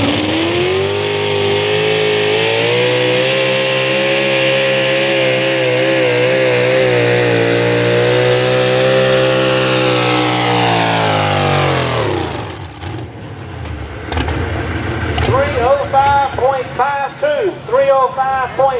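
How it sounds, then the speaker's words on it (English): A pulling truck's engine roars at full throttle during a truck and tractor pull in South Boston, Virginia, holding a loud sustained drone that climbs in pitch, then drops off and sputters as an announcer talks over the fading rumble. "You heard that truck lay down a little bit right there at the end."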